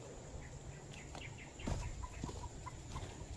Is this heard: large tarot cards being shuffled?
no